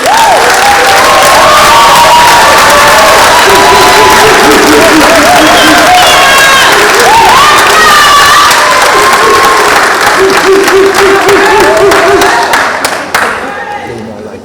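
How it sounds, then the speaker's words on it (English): A large crowd applauds graduating students at an adult education graduation ceremony, loud continuous clapping mixed with cheers, whoops and excited shouting voices, fading out near the end. "Let's please give these students another round of applause"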